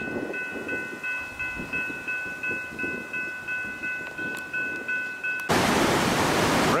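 A Union Pacific stack freight train rumbles by nearby, taking a crossover between tracks near the Cedar Falls dam, Iowa, with rhythmic wheel clacks over the rails and a steady high ringing tone, then a sudden loud rush of noise at the end.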